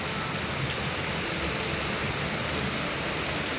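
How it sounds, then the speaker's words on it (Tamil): Heavy rain pouring steadily outdoors, a dense continuous hiss of drops striking surfaces with no letup, loud and even throughout. "செம்ம மழை பெய்யுது."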